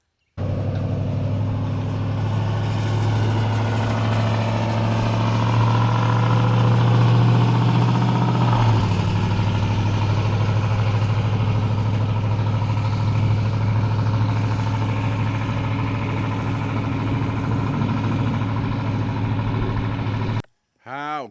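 A Cat skid steer engine runs steadily throughout, a loud continuous low drone that shifts slightly in pitch partway through and cuts out abruptly near the end.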